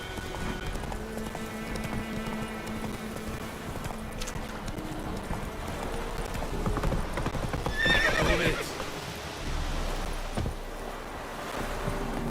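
A horse gallops in The Witcher 3 video game, with continuous rhythmic hoofbeats and a whinny around the middle, over ambient wind and water-like background sound.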